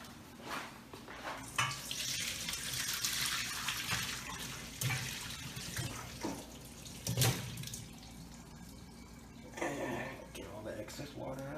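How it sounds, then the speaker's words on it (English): Water pours and splashes into a sink in uneven bursts as boiled potatoes are drained, while a person talks over it nearby. "after the potatoes are done boiling, you want to go over here and drain them out"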